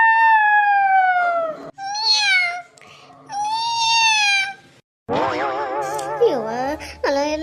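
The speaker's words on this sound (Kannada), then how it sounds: "ಎಲ್ಲ ಕಡೆ ಬೆಕ್ಕದ್ರದು ಕೇಳಕತ್ತು, ನಾಯಿ ಬಗಳದು ಕೇಳಕತ್ತಲ್ಲವ" Cats meow in a string of drawn-out, wavering cries, close and loud, with short gaps between them and sharper, bending yowls toward the end; no clear dog barking stands out.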